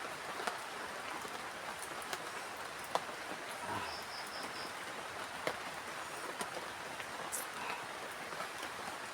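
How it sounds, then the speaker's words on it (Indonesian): Steady rain falls in a forest at night, a soft continuous patter with scattered louder drips and faint insect chirps in the background. "Tapi ini hujannya masih turun."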